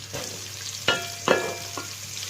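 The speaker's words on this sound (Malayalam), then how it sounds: "ഇനി അതിലേക്ക് നമുക്ക് സവോള ഇടാം" Onion and ginger sizzling in a hot pan for chilli chicken, a soft steady fry broken by a few sharp crackling bursts and scraping stirs.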